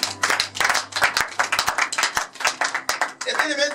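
A church congregation applauding and cheering the Lord during a worship retreat, with brisk rhythmic clapping close by and voices calling out over it.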